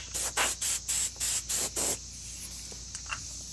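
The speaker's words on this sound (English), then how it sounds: "Blow out the bolt, dry it out." Compressed air blasts out of a Toro Super Bagger carburetor bolt in six short, sharp, loud hissing bursts, each about a quarter second long. Quieter background noise follows.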